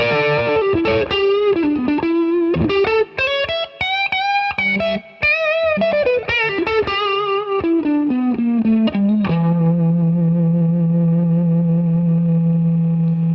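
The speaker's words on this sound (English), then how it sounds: "You can hear the saturation kicking in, you can hear the extra distortion, the extra harmonics, overtones." A distorted electric guitar plays a fast, saturated run of notes through a driven Roland Blues Cube Artist amp, ending on a sustained, gritty held chord.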